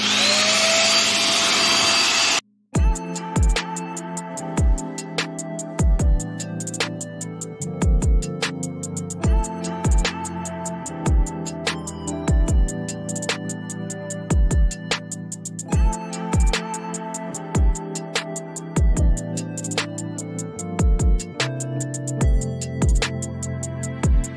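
A Eureka Forbes Light Vac vacuum cleaner switches on after a brief loud burst and runs with a steady drone, broken by regular knocks and clatter as the brush attachment is fitted and handled, close and loud, with no talking.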